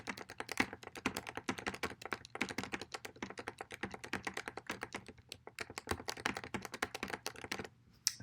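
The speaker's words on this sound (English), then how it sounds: "I'm going to just type in some dummy text for this one" Rapid, steady typing on a computer keyboard, dense clatter of key taps close by with a brief pause near the end; no voices.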